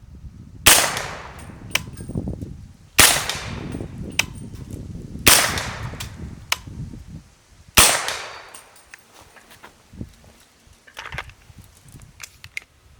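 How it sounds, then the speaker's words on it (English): Four loud AR-15 rifle shots in 300 Blackout with a SureFire optimized bolt carrier group, each a sharp crack with a ringing decay, spaced a few seconds apart, followed by quieter handling clicks and knocks. "I'm going to go ahead and put my ears on for the rest of these shots."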